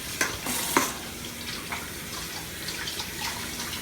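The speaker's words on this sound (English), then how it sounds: "we rinse the octopus a couple times here" An octopus being rinsed under a running kitchen tap: a steady hiss of flowing water with splashing, plus a couple of sharper knocks near the start.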